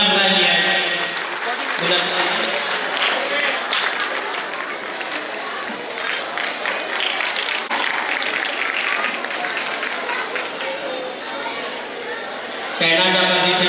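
At a school Islamic quiz contest, a voice on the microphone gives way to sustained, dense audience clapping lasting around ten seconds, with some crowd murmur, before the voice returns over the fading applause.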